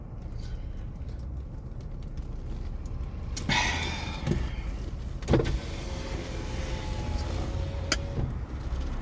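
A car's electric power windows run in a few short motor whirs, fairly close, with a soft thump at the end of travel, over a steady low idle rumble and no talk.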